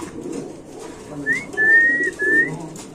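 Racer pigeons give a soft low cooing murmur, with a clear sustained whistle-like call rising over it in two drawn-out bursts, close and fairly quiet.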